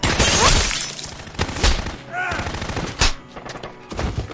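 Gunfire in a film excerpt, several loud sharp bursts and single shots spread across the stretch, with crashing impacts and a voice briefly heard between the shots.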